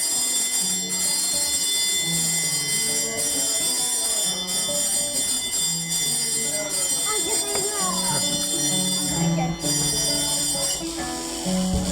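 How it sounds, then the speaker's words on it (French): A bell rings continuously amid a loud, busy scene with voices and other clatter around it, sustained for the whole stretch. "Laissez la sonnette passer."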